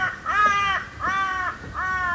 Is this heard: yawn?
no